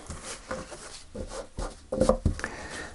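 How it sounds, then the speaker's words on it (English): Tarot cards are shuffled by hand in several quiet, soft, papery bursts of riffling and tapping, close by. "One more shuffle."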